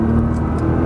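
A Nissan GT-R driving on a race track at Exotics Racing in Las Vegas, giving a brief, steady engine drone at close range with no pause or rise.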